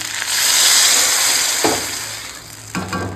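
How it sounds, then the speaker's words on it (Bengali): Water poured into a sizzling pan of fried ginger-cumin paste for a fish curry, giving a loud steady frying hiss that flares sharply twice more as more water hits the hot oil. "ঝোল করবো ওই জন্য পরিমাণ মতো জল দিয়ে দিলাম"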